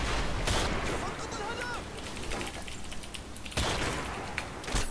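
Gunfire in Modern Warfare 2, with dense, loud bursts of shots and clattering that fill the whole stretch, along with some game noise.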